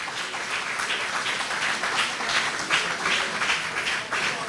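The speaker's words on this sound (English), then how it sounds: "Let us all applaud this great achievement by Jermaine Francis." Audience at a political party convention in St. Kitts applauding, a sustained, fairly loud wash of many hands clapping with slight surges in intensity.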